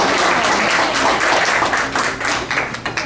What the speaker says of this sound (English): So give the Citrus Club a round of applause.